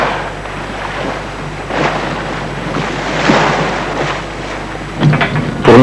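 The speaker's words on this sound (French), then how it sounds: "le bruit des moteurs de la Calypso ne dérange pas les baleines" Engines of the research ship Calypso running at sea make a steady low drone beneath wind buffeting and the wash of waves, loud and continuous with no voices.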